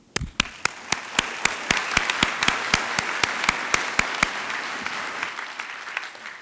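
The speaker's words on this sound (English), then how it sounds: "round of applause" Applause at a college commencement ceremony begins with a few sharp, close individual claps that ring out in a steady rhythm over a wider crowd's clapping, then fades gradually toward the end.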